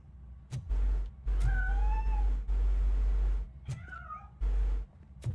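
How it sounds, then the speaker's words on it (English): A cat in the RoboCop: Rogue City video game meows several times in clear, rising and falling cries, each call distinct and fairly close, with low game ambience thumping in between and no talking. "That cat must be hiding inside."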